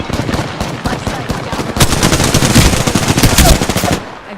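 Automatic gunfire in the Apex Legends video game, loud rapid bursts of shots, lighter at first and then a sustained heavy stream of fire before tapering off, with faint voice in the background.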